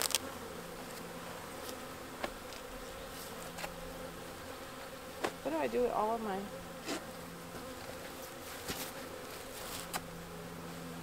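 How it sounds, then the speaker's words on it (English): Honey bees buzz around a nuc hive in spring, a constant close hum with scattered louder fly-bys, while a person speaks briefly over it. "The bees are going to be angry."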